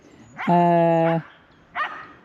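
A dog on an Irish farm barks at a cat: one loud, drawn-out, harmonic bark close by, followed after a short pause by a briefer, softer yip.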